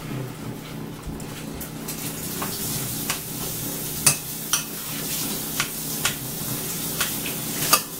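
Ground turkey cooks in a pan for sloppy joes, a steady close sizzle with scattered sharp clicks and scrapes from a utensil stirring the meat, no voices.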